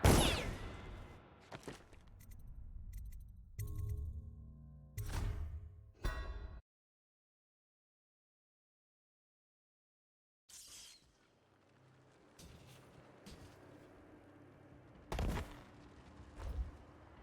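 Guards firing guns in Dishonored, with sharp bursts of gunfire and whooshes in quick clusters, a few seconds of silence, then more scattered shots and loud cracks against low background noise.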